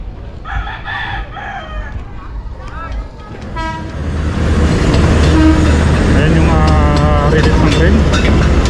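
Train on a rail line beside a demolished residential area sounding its horn as it approaches, with early horn blasts, then a loud close rumble and a sustained horn as it passes.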